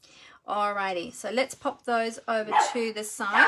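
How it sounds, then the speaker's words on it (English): A pet dog barking at the front door indoors, sharp yips and barks mixed in with someone talking close by over the top. "Sorry about the barking."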